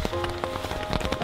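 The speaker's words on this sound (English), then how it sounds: "Rain is a reality that we must face." Rain pattering steadily on a surface during a rainy outdoor trip from Cloverdale toward Christiansburg, Virginia, with close, irregular drops tapping over a soft hiss for a brief moment, no voices.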